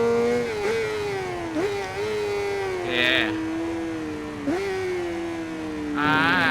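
A motorcycle engine in the racing video game RIDE 5 holds a high, steady drone, with short throttle blips and pitch shifts through gear changes and a sharp rising rev near the end. No voices are heard.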